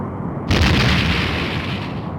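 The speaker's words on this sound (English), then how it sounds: "The Romulan warbird has been destroyed." A Romulan warbird explodes in the Star Trek: A Final Unity game, a single heavy boom erupting suddenly and rolling on as a loud, sustained rumbling blast.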